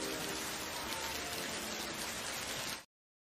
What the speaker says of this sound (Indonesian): di tengah obrolan mereka tiba-tiba turun hujan yang sangat deras